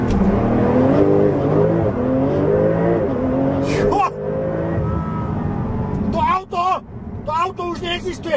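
A 2021 Porsche 911 Turbo S launches and accelerates hard, its engine climbing loudly through rising revs with gear changes, then sharp bursts near the end, with someone talking over it.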